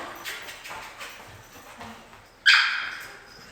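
A puppy lets out a single short, high whimper near the end, after a few seconds of quiet, faint room sound.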